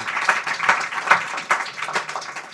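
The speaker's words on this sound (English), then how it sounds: "A big round of applause." Audience at a formal talk by the President of Botswana clapping, a short burst of scattered, uneven handclaps from a moderately sized crowd, close and fairly loud.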